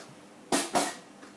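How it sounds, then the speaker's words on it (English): A lidded smoker pan set down onto the heat with two quick metallic clunks close together, sharp and near against a quiet background. "Place the smoking tray on top, rest the salmon on the rack, lid on, and we're going to put that on the heat"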